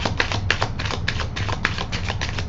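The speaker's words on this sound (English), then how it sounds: "let me go ahead and do another rifle and shuffle" A quick, crisp riffle of playing cards, a rapid flurry of light flicking taps with no talking.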